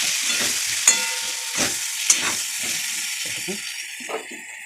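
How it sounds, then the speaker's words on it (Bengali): Tomato, onion and green chilli frying in a pan with turmeric and salt, giving a continuous close sizzle with several spatula stirs and light metallic clinks over about five seconds. "একটু ভাজা হোক।"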